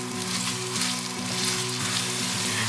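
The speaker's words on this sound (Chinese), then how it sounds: "油热了之后，把姜末放进来。 把姜末炒香。" Minced ginger sizzles and fries steadily in hot oil in a wok, a dense continuous crackle close by with faint scraping of a spatula, no talking.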